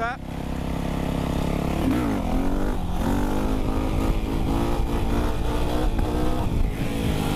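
A 125cc motorcycle accelerates hard in fourth gear to lift into a wheelie, its engine note rising steadily and staying loud and close throughout, with a voice talking over it.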